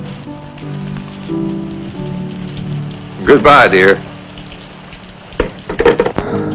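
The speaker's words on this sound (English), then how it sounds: "and it's raining outside." Steady rain falls outside as a continuous background patter, with a man and a woman exchanging brief spoken lines over it.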